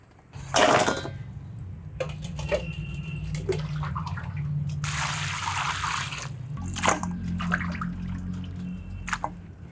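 Mutton head pieces being washed in water, with splashing, trickling and dripping sounds alongside handling noises, close and moderately loud, and a sustained running-water stretch in the middle.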